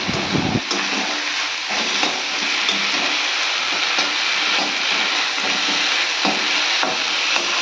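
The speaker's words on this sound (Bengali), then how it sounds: "শাকটা আমি পেঁয়াজ দিয়ে ভেজে নিচ্ছি" Leafy greens fry with onion in a pan for a Bengali shak bhaji, a close, loud, continuous sizzle and hiss broken by occasional clatters of a spatula stirring.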